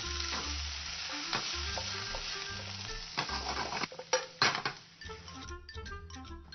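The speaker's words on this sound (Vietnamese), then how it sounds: "mình xào chung với cà tím luôn hả anh" Eggplant stir-fried in a hot pan for a Vietnamese bún mắm, with steady close sizzling and repeated scraping stirs, a few clinks of utensil on metal near the end.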